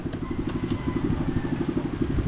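A small boat engine idles steadily nearby, its low chugging pulse repeating rapidly and evenly with a faint rattle.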